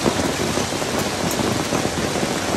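Sudden heavy rain mixed with hail pours down in a city centre, a dense, steady, loud roar of drops hitting surfaces with no letup and no voices.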